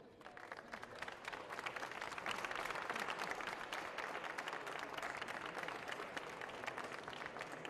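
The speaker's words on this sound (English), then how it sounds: "greeted by applause from the Madrid chess community" Sustained applause from the Madrid chess community fills the space, a dense, even wash of many hands clapping that swells after the first second and holds steady throughout.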